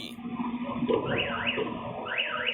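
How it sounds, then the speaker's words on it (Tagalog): An SUV's alarm goes off after a fog light part is pulled loose, sounding as a repeating rising and falling electronic wail, moderately loud over a steady low hum. "Nang makuha ang pyesa, agad tumunog ang alarm ng SUV."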